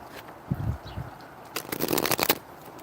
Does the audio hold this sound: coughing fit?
no